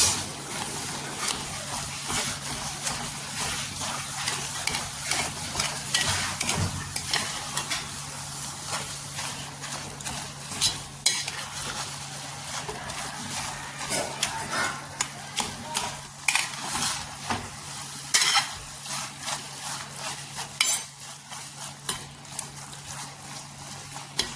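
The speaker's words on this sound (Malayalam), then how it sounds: "മത്തങ്ങ നന്നായിട്ട് വെന്ത് കഴിയുമ്പോൾ ഇതുപോലെ ഒന്ന് ഉടച്ചെടുക്കാം" Cooked pumpkin mashed in a pan for a Kerala pumpkin payasam gives steady close scraping and soft squishing taps, repeated irregularly with no voices.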